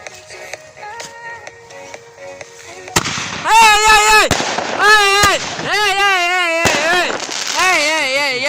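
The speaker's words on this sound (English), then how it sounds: "It's time for more shot tubes." Fireworks shot tubes launch with sharp bursts and whistling, warbling tones, followed by loud pops and crackles at close range, with people's voices mixed in during a night-time Guy Fawkes display.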